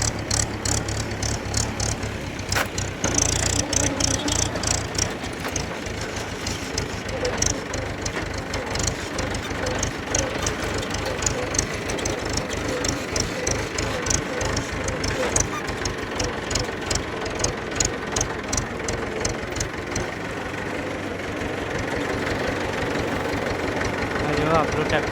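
A farm tractor idles in a field with a steady low, knocking diesel chug that stays loud throughout, while someone talks over it at intervals.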